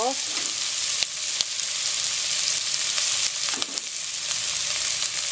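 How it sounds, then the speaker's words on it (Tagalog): Onions frying in a pan, a loud continuous crackling sizzle with a few clicks and scrapes from stirring, steady and close throughout with no talking. "hintayin lang natin na medyo maluto yung sibuyas"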